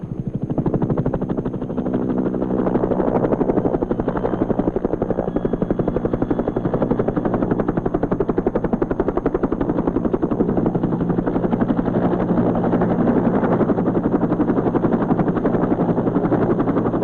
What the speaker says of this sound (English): Today, the sound of a helicopter usually means one thing.